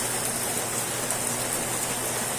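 Steady, continuous rain falling without pause in the early morning, an even hiss of drops on surfaces, close and constant with no voices.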